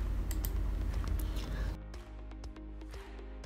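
Keys on a computer keyboard clatter in quick, uneven bursts of close, crisp clicks, with faint background noise and brief pauses between strokes.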